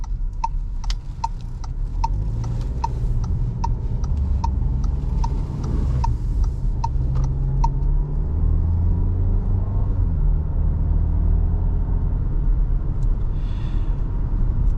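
A 2022 VW Tiguan S drives on the road, with a steady low cabin rumble of engine and tires throughout and a quick run of ticking, like a turn signal, during the first half.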